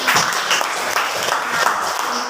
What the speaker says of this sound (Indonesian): tepuk tangan untuk Septana.